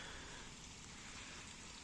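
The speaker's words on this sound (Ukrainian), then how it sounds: "Дощ шурує." Steady rainfall on a farm in wet weather, a soft, continuous hiss of rain with no voices.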